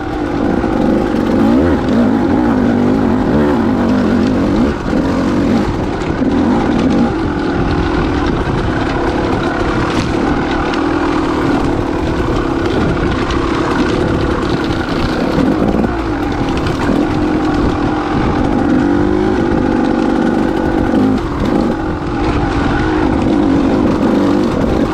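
Dirt bike riding along a smooth, flowing dirt trail, with a steady, loud engine drone and tire and wind noise continuing throughout, no talking.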